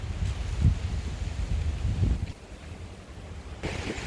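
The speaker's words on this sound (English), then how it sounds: "Very windy today again." Strong wind in an orchard beside a pomelo tree buffets the microphone in heavy low rumbling gusts that ease off partway through, then pick up again.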